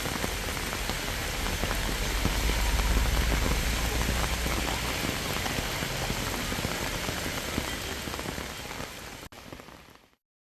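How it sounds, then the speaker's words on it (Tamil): Heavy rain pours down in Ooty in the Nilgiris, a loud, dense and unbroken hiss of drops striking surfaces close by that fades out at the very end. "நீலகிரி மாவட்டம் உதகையில் ஒரு மணி நேரத்திற்கு மேலாக கனமழை பெய்தது"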